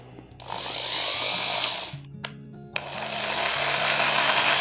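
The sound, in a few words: Eastman variable-speed electric drill machine running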